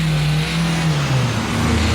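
Cars drive past on a road near a care home, a steady close engine hum with a falling pitch as one vehicle passes by.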